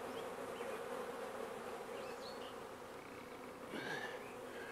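A honeybee swarm hums in a steady, dense drone of many wings, with a few brief higher buzzes passing close by near the end.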